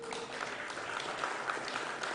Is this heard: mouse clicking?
no